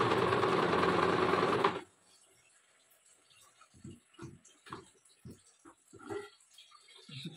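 A sewing machine stitching fabric runs loudly for under two seconds and then stops, followed by soft scattered taps and handling sounds.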